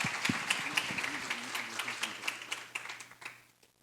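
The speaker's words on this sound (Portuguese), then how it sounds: "Vamos aplaudir o Senhor Jesus" Scattered applause from a small church congregation, a few hands clapping nearby that gradually thin out and fade to quiet.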